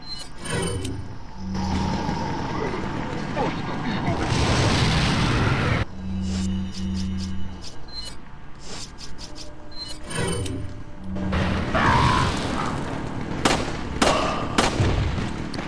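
An incendiary grenade goes off in Resident Evil 4, bursting into harsh, roaring, crackling flame noise in loud, broad waves that swell and die away. Sharp gunshot-like cracks and game effects punctuate the blasts.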